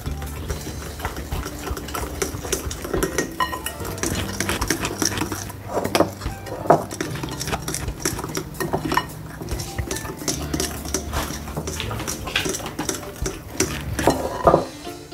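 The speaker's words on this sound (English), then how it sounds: "I'm gonna combine my dry ingredients to the wet ingredients." Banana bread batter with cranberry, chia seed and flaxseed being mixed in a bowl, a continuous run of scraping, clinking utensil strokes against the bowl, close and steady for a sustained stretch.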